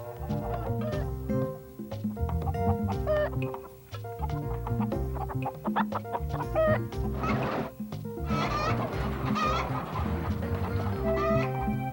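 Several chickens cluck and squawk continuously, close by and fairly loud, with busy overlapping calls.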